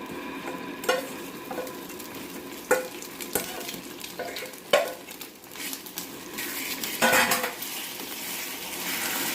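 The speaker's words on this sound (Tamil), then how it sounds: "இப்போ நம்ம ஊற வச்சுருந்த ரவையை போட்டு கொஞ்சம் போல் மிக்ஸ் பண்ணிக்கலாம்." Soaked semolina is stirred into light-brown caramelized sugar in a pan for a quick semolina cake, making a thick sizzle under repeated scraping strokes and occasional metal clinks of the spoon against the pan.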